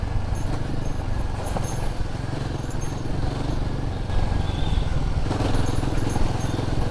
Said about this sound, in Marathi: मी खड्ड्यांमधून थाडथाड घालवते गाडी